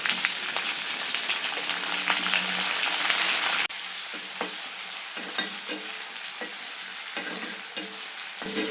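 Tomatoes sizzle and fry with crushed garlic cloves in a pan, a steady hiss with spoon stirring scrapes, loud at first and then easing to a softer sizzle with occasional clicks and pops.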